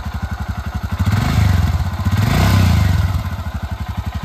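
A Royal Enfield Himalayan 411 BS6 motorcycle engine runs close by with a steady, even single-cylinder thump, swelling louder twice as the throttle is blipped before easing back to idle.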